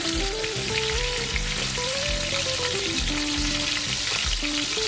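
Chicken pieces for cilantro garlic lime chicken fry in a hot skillet, giving a steady, continuous sizzle beneath melodic background music.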